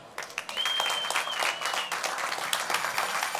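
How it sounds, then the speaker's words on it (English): Audience applause for hackathon participants on stage at Paris Blockchain Week, a steady, dense wash of clapping from a sizable crowd, sustained and even throughout with a brief high whistle near the start. "please join me on stage for a final round of applause"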